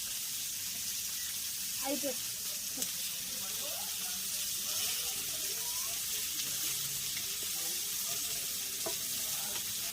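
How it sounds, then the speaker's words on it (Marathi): Flour-coated fish marinated with salt, masala and paste fry on a wood-fired clay stove in Konkan, with a steady close sizzle running throughout under intermittent talking. "मी आज मासे भाजतोय"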